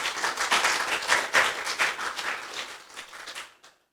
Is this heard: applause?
yes